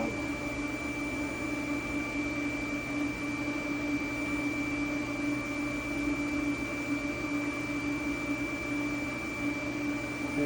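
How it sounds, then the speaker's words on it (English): A pump or fan inside an induction forge emits a steady, piercing high-pitched whine over a continuous electrical hum, unchanging and loud for the whole stretch. "high pitched, annoyingly so. I don't know. That's the pump or fan, whatever it is"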